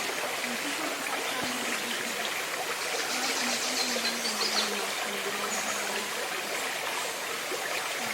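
A creek runs over boulders with a continuous rushing, gurgling flow, close and steady throughout, with faint speech barely audible beneath the water.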